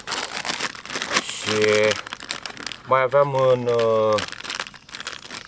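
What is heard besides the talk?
plastic bag of fishing bait being handled, crinkling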